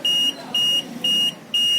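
A UPS inverter board's low-battery cutoff buzzer sounds in four steady, loud, high-pitched beeps, each about a quarter second long and evenly spaced, alone with no voices.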